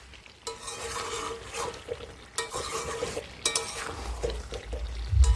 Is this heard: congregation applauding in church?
no